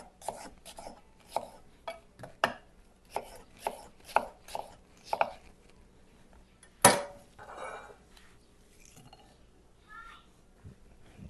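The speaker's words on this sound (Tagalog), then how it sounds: "Tamang paghiwa pala yung sibuyas natin." A knife slicing onion on a board, about a dozen crisp rhythmic cuts close by, then one sharp knock and quieter handling, with a person talking softly in between.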